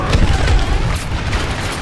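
Loud, booming laser blasts and explosions during an X-Wing space battle against a Star Destroyer in Star Wars Battlefront VR, rumbling continuously up close without any talk.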